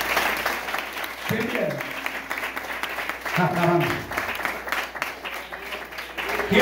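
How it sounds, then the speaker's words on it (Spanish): A church congregation keeps up steady applause through the whole stretch while someone speaks over it, his voice rising above the continuous patter of many clapping hands. "Aplauso al Señor por esta vida que vive."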